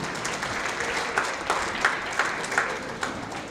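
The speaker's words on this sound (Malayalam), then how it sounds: "കുറെ കൂടെ ഉറക്കെ കൈയടിക്കാം," An audience at an award ceremony honouring COVID-19 frontline workers keeps up sustained applause, a dense, fairly close patter with a few sharper individual claps standing out.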